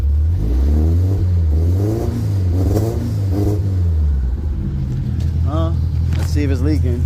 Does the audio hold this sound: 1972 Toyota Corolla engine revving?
yes